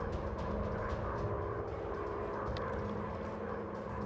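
Droning engine of a WW1 fighter plane in the VR flight game Warplanes: WW1 Fighters, a steady, dense propeller roar filling the whole stretch with no letup and no talk over it.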